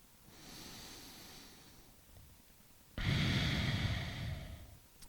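Deep, slow breaths during a yoga stretch for men's sexual wellness, a long soft exhale followed by a louder, fuller breath that rushes in close to the microphone, with no talking.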